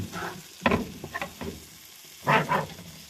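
Boiled potatoes are stirred into mixed vegetables in a pan for a dhaba-style mix sabzi, with a few irregular scraping and clattering strokes over a soft background hiss, close by.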